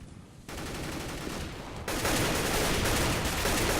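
AK rifle fire in a competitive tactical shooter match, with rapid automatic bursts blending into a dense, steady crackle that grows louder partway through, with no voices over it.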